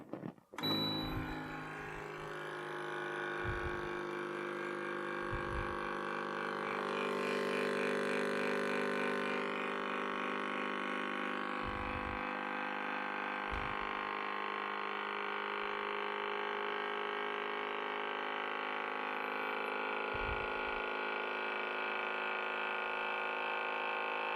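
A steady mechanical hum and whine of a Vidia BL-001 vacuum blender motor running continuously, with a few low thumps near the start and scattered throughout.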